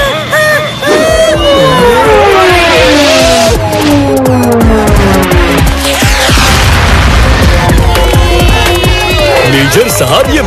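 A cartoon missile explodes in a loud, sustained boom with whooshing, swirling effects and crowd-like clamor filling the whole stretch, with voices mixed in.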